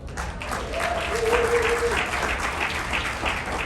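Audience applause at a live business event fills the room, a steady broad wash of clapping lasting several seconds, fairly loud and without a break.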